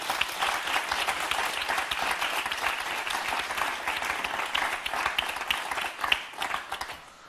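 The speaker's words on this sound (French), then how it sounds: "je voulais qu'on l'applaudisse très fort" On the set of the French TV game show Motus, a studio audience applauds loudly and steadily, a dense wash of clapping that carries on for several seconds before tapering with a few last claps.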